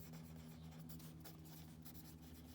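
A pencil or pen writes a chapter review heading on paper, soft scratchy strokes in quick irregular bursts, close and faint over a low steady hum.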